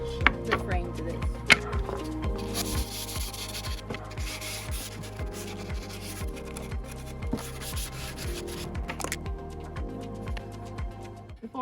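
Light hand sanding of a wooden louver vent cover frame for a crawl space makes a steady back-and-forth rubbing rhythm of short scratchy strokes, close and moderately loud.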